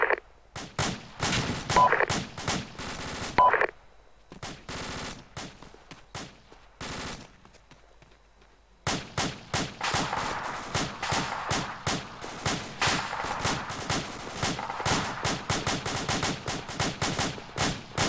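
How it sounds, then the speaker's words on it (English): Gunfire from a military training exercise rings out in rapid bursts and scattered single shots, some close and loud, others more distant, with a brief lull between volleys. "They're taking fire from the left."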